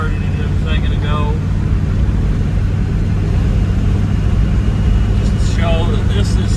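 A just-cold-started V8 engine swapped into a Ford Ranger pickup cruises at about 55 mph, giving a loud, steady, deep rumble from inside the cab while someone talks over it.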